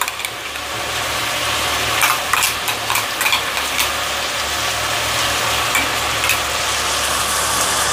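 Ginger garlic paste fries and is stirred in a pot for vegetable biryani, a loud continuous sizzle broken by clicking spoon strokes against the pan, close up and with no talking.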